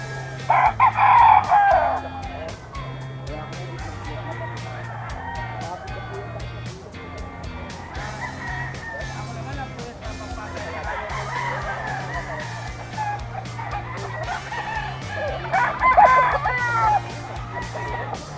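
Roosters crow repeatedly amid a noisy gamefowl market scene, with someone talking throughout and background music playing underneath.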